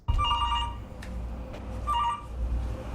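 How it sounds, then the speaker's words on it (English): A landline telephone rings steadily in repeated electronic bursts, close and fairly loud over a low room hum, with no one speaking. "Irvin Fulton's phone has been steadily ringing"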